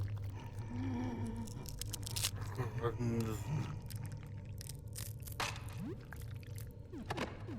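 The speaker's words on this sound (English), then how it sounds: "I hate those crunching, snapping sounds." Crunching and snapping noises come from the horror video game Look Outside, wet cracks and crunches in irregular bursts, fairly close, with a voice-like sound mixed in partway through.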